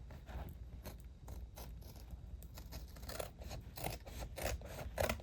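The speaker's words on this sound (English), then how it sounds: "let me trim that up a little bit" Scissors trimming felt for a notebook cover, a quiet series of close, crisp snips and slicing strokes repeating irregularly, without talk.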